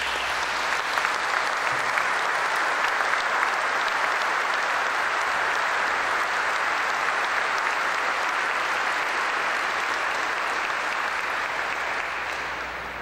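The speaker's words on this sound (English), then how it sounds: "You deserve a great round of applause" Long, steady applause from a large audience at an F-22A Raptor ceremony, dense even clapping filling the hall before tapering slightly at the close.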